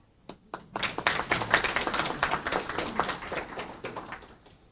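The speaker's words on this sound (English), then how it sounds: "if you would please join me in applauding our beloved doctor" Applause from a conference audience at a lecture on genocide, with scattered claps starting, then swelling into steady clapping before thinning out again near the end.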